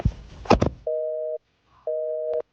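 A phone call fails to connect amid a total lack of network, giving a busy signal: two steady electronic tone pulses with a gap between, following a short burst of handling noise near the phone.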